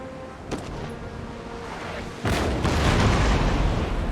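Cannon fire in an Empire: Total War naval battle: a sharp crack, then a loud broad boom that rolls on and sustains as heavy broadside fire, with no talking.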